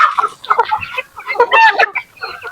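Native chickens cluck and chatter close by in a flurry of overlapping calls, busy and fairly loud with short gaps between them.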